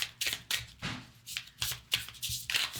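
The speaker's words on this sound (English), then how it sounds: "One more shuffle." Tarot cards being shuffled close by in quick, rhythmic riffling bursts, several in a row with brief pauses between.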